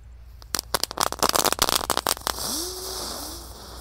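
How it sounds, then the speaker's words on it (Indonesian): A lit three-colour spinner firework (gangsing) bursts into a rapid cluster of sharp crackles and pops, close and loud, then gives way to a whooshing hiss with rising whistling tones as it spins. "ada gangsing super 3 warna atau roda gila, kita nyalakan dengan sumbu telur dino guys"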